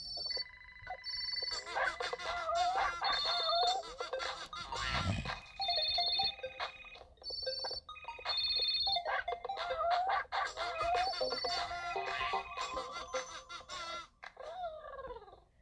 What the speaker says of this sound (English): Fix the phone. It keeps calling.